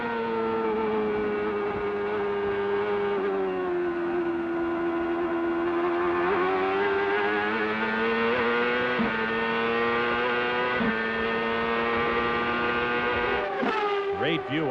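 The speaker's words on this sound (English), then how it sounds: "Great view off the nose of that car as they come up through the gearbox, listening to the RPM climb." A 900-horsepower CART race car at the 1998 Cleveland round climbs through its gears from an onboard view, a loud continuous engine whine with rising harmonics that step at each shift, under commentary.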